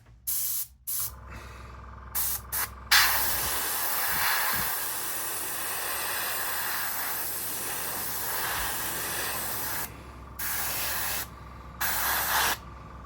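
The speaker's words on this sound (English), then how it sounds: "And let's spray." Steady airbrush hiss of MRP Aqua paint spraying for several seconds, with short bursts starting and stopping at the beginning and end.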